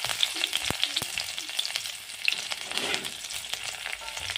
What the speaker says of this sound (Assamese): নহৰুখিনি অলপ ৰঙাকৈ ভাজি লওঁ।